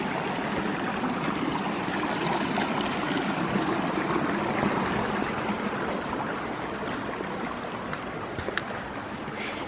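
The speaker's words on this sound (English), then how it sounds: "And I've got to my first stream crossing." Rushing water of a stream crossing on the Pacific Crest Trail near mile 100 and Eagle Rock, a close, steady burbling roar that keeps up without pause, with a few faint clicks near the end.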